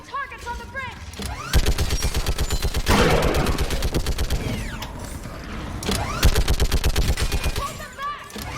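A mounted gun fires in Mass Effect 3 in long rapid bursts of loud mechanical shots, a steady rattling stream broken by short pauses, with battle noise around it.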